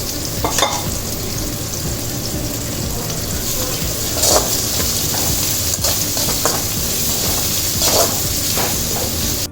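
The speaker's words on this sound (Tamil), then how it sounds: "இப்போது இந்த வெங்காயம் போட்டோம் பாருங்கள், வெங்காயமும் நல்லா பொரிஞ்சிருச்சு" Sliced onions fry in hot oil for fried vegetable rice, giving a continuous loud sizzle with occasional clinks and scrapes from stirring and no voices.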